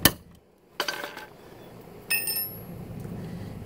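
A metal blade on a Craftsman lawnmower is struck after being tightened with a wrench, producing a few sharp metallic clanks with ringing tails, close and separated by quiet gaps.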